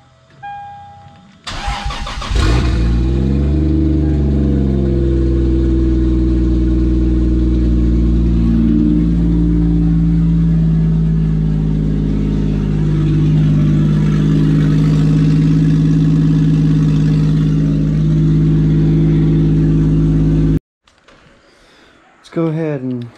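A Lexus IS300 engine cranks briefly, fires and settles into a loud, steady, close-up idle with slight revving. It runs about twenty seconds before cutting off abruptly, with someone speaking briefly.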